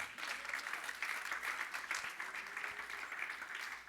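A church congregation claps for the Lord during a sermon, with steady, rhythmic, moderately faint applause sustained across the whole span.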